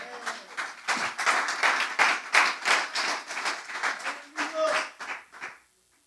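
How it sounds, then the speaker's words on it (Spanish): A church congregation claps continuously for several seconds during a sermon, a dense, lively patter of many hands, with voices mixed in underneath. "Démosle un aplauso al Señor."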